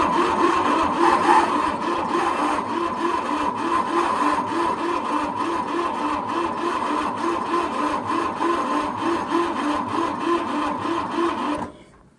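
A Super Dexta tractor engine cranks over slowly on the starter with a steady, evenly pulsing chug and does not catch for about twelve seconds, then it cuts off abruptly.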